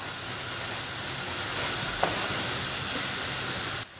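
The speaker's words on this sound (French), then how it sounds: "Je la laisse cuire sur la première face pendant 1 minute dans un premier temps, à feu moyen." Thin crêpe batter cooking in a pan over medium heat gives a steady, even sizzle that holds level throughout and cuts off abruptly at the end.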